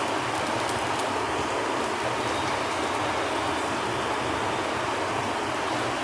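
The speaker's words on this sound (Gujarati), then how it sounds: "અત્યારે વરસાદ ચાલુ છે ને એટલે અવાજ આવે છે અમારા બારીમાંથી" Steady rain heard through a window patters continuously with a soft, even hiss, slightly muffled, with no talking.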